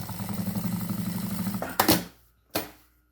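A sewing machine stitches a seam on a toiletry bag, running steadily and close for under two seconds, then stopping with two short, sharp mechanical clunks as the stitching ends.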